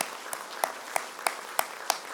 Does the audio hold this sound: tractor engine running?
no